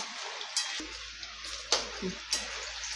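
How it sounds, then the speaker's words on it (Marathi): Potatoes fry in hot oil in a home kitchen, a steady close sizzle with a few louder spattering bursts and stirring clatters throughout, no voices. "बटाटे 4 ते 5 मिनिट असे खालीवर करून आपण मस्त फ्राय करून घेऊया."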